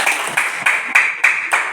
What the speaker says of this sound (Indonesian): Berikan tepuk tangan buat semua Batak.